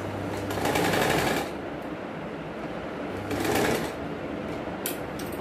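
An electric sewing machine stitching a designer sleeve runs in two loud, rapid bursts of needle chatter about two seconds each, separated by a quieter idle pause, with no one speaking.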